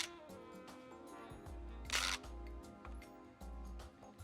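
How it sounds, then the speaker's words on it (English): Two or three crisp mechanical shutter clicks from a Fuji DL-300 1980s compact film camera, with a brief whirring burst in the middle, close and fairly quiet over a soft low hum. "shutter going off sounds something like this"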